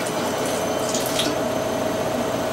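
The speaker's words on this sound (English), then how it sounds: "And now I will stick some balsamico in there." Balsamic vinegar is poured from a bottle into a pan of caramelised red onion chutney, a continuous close liquid splashing and trickling that holds steady the whole time, with no voices.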